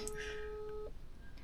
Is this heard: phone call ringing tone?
yes